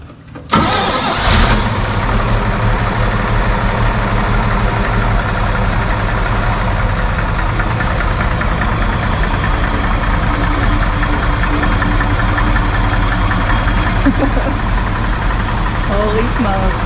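A 1963 Chevy 4x4 truck starts for the first time in years, catching after a short crank and settling into a loud, rough, steady run with a knocking edge, close by and continuing unbroken throughout.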